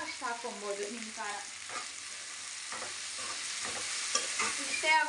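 Drumstick dry curry is stirred in a hot pan, giving a steady sizzle with scraping stirs close by, and a voice speaks briefly over it at the start.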